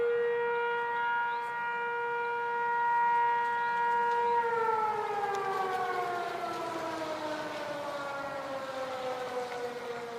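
A town siren in Enfield, North Carolina, sounding at 9 o'clock, wails loud and steady, then its pitch slowly winds down while it keeps sounding, with no other noise.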